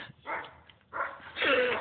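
A person mimics a dog, giving three short throaty bark-like yaps with gaps between them, close and fairly loud, the last one stretched into a whining tone.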